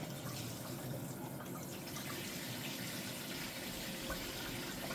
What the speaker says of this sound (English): I'm going to now turn on the waterfall feature